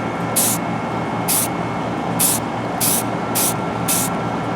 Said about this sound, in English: We're going to use short bursts. We're not going to hold the spray on for too long.